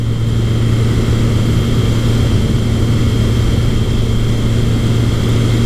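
A Kawasaki KZ1000 motorcycle cruises at 60 mph just under 4,000 RPM: a loud, constant engine hum with a steady low tone, wrapped in heavy wind rush, unbroken for the whole stretch with no talk.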